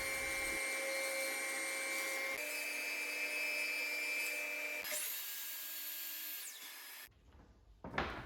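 Wooden table legs being squared up and planed to final thickness, a loud continuous machine drone with a steady whine and brief knocks as each piece feeds through, then winding down near the end, no voices.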